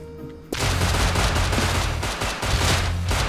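Sustained gunfire in the video game Rust erupts after a brief quiet start, loud and dense automatic shots hammering continuously with only short breaks.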